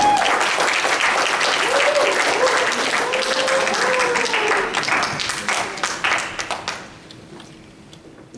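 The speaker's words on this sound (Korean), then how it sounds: "박수로 한번 모셔주세요" A church youth-service congregation in Auckland claps to welcome a speaker to the front, dense applause that thins into scattered claps and fades out near the end, with voices audible over it.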